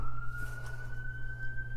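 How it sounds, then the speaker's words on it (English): An emergency vehicle siren wails from a fire station across the street, a steady high tone heard at a distance over a constant low hum, with no talking. "Hear the sirens."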